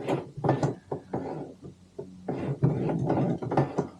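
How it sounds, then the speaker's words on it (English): A sewing machine's hand wheel turned by hand while stitching a tote bag, giving a close, rhythmic run of mechanical clicks and clunks in short bursts with brief pauses, and no voices. "use your hand wheel. Always turn it towards yourself."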